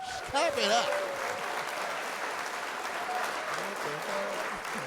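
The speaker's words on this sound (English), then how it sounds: "clap it up" Steady applause and clapping fill about five seconds on a podcast, with brief voices and whoops early on and the clapping continuing at an even level underneath.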